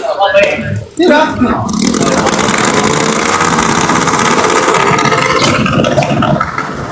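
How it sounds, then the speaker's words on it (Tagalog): A motorcycle engine drones loudly and steadily nearby, a rough continuous rumble with clattering noise, while people talk over it. "Ang ingay ng motor"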